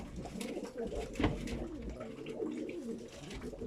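A pigeon coos softly and repeatedly, its low throaty calls rolling close by over faint background noise.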